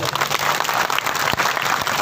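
Audience applause at a Hindi speech event honouring Tantya Bhil, clapping for the organizers, a dense loud burst of many hands lasting a couple of seconds.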